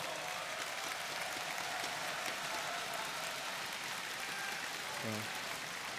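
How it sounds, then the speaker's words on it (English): Audience applause at the NASL Season 3 Finals, a StarCraft II PvP esports match, heard as a steady, dense wash of clapping filling the whole stretch, with a commentator's voice mixed in. "Let's give him one more round of applause."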